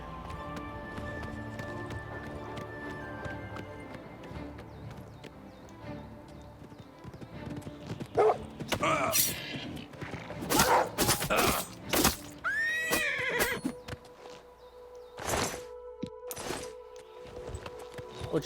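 Horse hooves clip-clop and a horse neighs several times in the video game Oblivion, the steady hoofbeats running under faint game sounds and followed by loud, sharp whinnies near the end.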